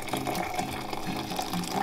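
Water poured slowly and steadily into a French press coffee maker, heard as a close, continuous liquid trickle with no talking.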